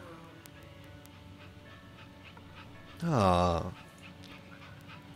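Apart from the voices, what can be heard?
dog whimpering and panting in the video game That Dragon, Cancer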